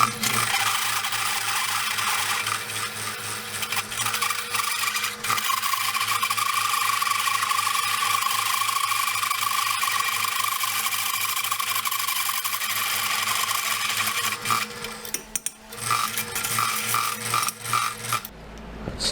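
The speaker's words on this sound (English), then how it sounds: "Step bit is really giving my old drill press a workout." A 1981 drill press boring a good-sized hole with a step bit, giving a sustained, loud grinding squeal of metal cutting that holds steady for most of the run and then breaks off near the end.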